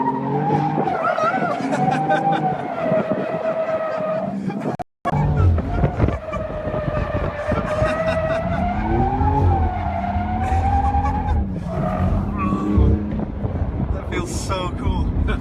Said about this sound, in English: I went drifting for the first time.